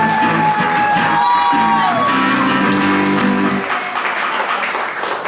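A crowd at a concert claps and cheers loudly for the drummer, with whoops and shouts over sustained applause and a held musical chord that fades near the end.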